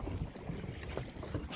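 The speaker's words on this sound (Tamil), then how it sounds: "தென் இன்னொரு ஸ்பீட் போட் இருக்குது" A speedboat runs on open water at a watersports spot, giving a continuous broadband rumble of engine and water wash mixed with wind buffeting the microphone, with no one talking.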